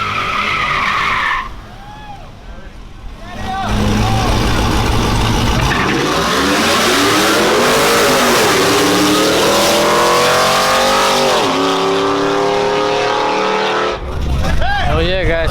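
A GMC truck and a Cadillac CTS-V launch in a drag race, engines revving hard with loud, rising roars and tire noise, followed by a brief drop before another burst of engine sound, with crowd voices around.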